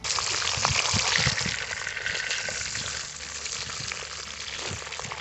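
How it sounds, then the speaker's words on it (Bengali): Fish heads fry in oil for chyachra, a loud, close, continuous sizzle with bursts of spattering and a few stirring knocks, slightly easing toward the end, with no talking. "মাছের মাথাগুলোকে ভালো করে লাল লাল করে ভেজে নিতে হবে"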